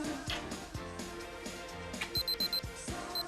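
A pager beeps in a steady repeating pattern of short high electronic tones over a muffled indoor background, faint and close.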